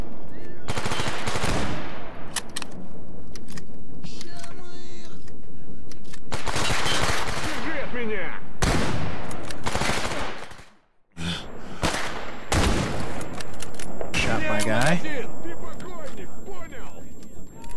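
Sustained automatic gunfire in the video game Stalker Gamma, loud and close, with bursts and single shots coming in waves, a brief lull, then heavy firing again while a voice talks between volleys.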